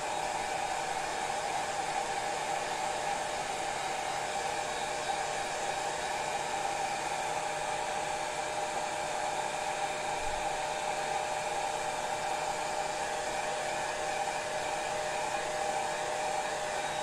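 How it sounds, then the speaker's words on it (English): A blow dryer runs steadily at close range, a constant whirring roar with a high whine that never changes for the whole stretch, with no voices. "I'm going to turn that blow dryer on so I can move past that really quick."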